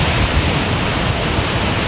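Rough sea waves breaking against a coastal rock formation, a steady, loud wash of surf noise with no distinct individual breakers and no voices.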